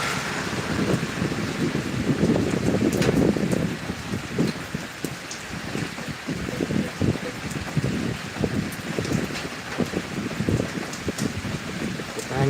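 Steady rain patters and drips close by at a beach at sunset, with gusts of wind buffeting the microphone and scattered heavier drops throughout.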